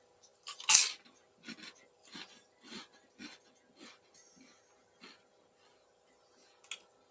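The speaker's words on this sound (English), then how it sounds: "eat some crackers." Crackers being eaten: a loud crunching bite followed by a steady series of softer chewing crunches, close and alone, with a brief crunch near the end.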